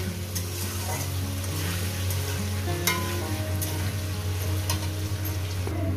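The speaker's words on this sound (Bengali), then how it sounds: "এটা 3-4 মিনিট ধরে ভেজে নেবো আলুটা।" Potatoes frying in a pan for an okra and fish-skin dish, a steady, close sizzle with light stirring and pan scrapes running continuously throughout.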